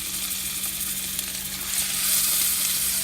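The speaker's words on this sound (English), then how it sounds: "So our pan's nice and hot. We're going to drop in our scallops." Scallops sear in a very hot pan over a burner on high, giving a loud, steady crackling sizzle that swells a little louder toward the end.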